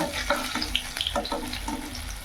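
Fuchka puris frying in plenty of oil, a steady close bubbling hiss with soft repeated crackles throughout, no voices.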